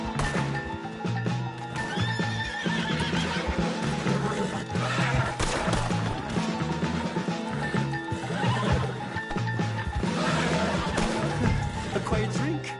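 A horse in the Red Dead Redemption 2 video game whinnies amid a dense, busy mix of game sounds, with hooves and thumps close by and the neighing standing out briefly within the steady clatter.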